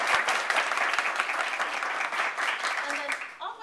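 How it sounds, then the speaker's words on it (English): An audience applauds at the Ohio Women's Summit, a sustained clapping crowd that tapers off near the end as a voice comes in. "I think that Judge Cosby also deserves another round of applause."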